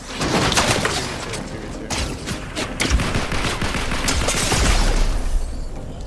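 Rapid bursts of automatic gunfire in the Fortnite video game, dense and loud, overlapping throughout with sharp cracks and heavy low thumps.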